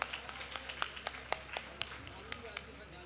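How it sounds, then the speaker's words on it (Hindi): Sparse audience clapping at a college prize-giving for competition winners, a thin scatter of individual claps heard at a distance, fairly faint over a low room hum. "इनके लिए तालियां बजाएं भरपूर।"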